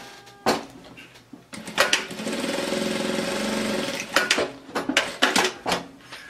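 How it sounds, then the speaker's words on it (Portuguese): A sewing machine stitches the bottom of a fabric bag closed in one loud, steady run of a few seconds, framed by sharp clattering handling noises before and after. "Vou passar a máquina aqui fechando o fundo."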